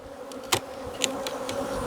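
Honey bees buzz in an opened hive box of pollination colonies during a split, a steady close drone with a few louder individual passes.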